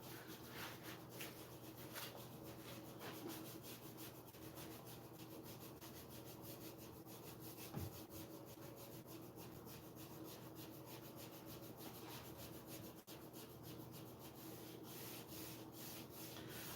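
Wax is rubbed onto the molding of wooden furniture in a steady, close rubbing and scrubbing texture that continues without a break for the whole stretch, quiet and with no voices.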